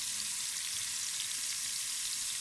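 Cumin seeds fry in hot ghee with a steady, close crackling sizzle for a salan of taro root and eggplant, continuous and alone without talk.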